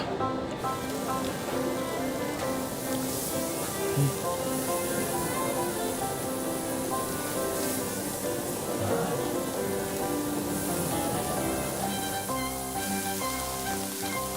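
Korean hanwoo beef sizzles on a grill at a Seoul barbecue restaurant, a dense, steady, rain-like crackle that stays loud and close for the whole stretch.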